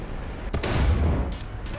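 Aircraft guns firing in the War Thunder combat game, a loud burst of shots lasting well over a second over steady engine-like noise, with a sharp crack near the start.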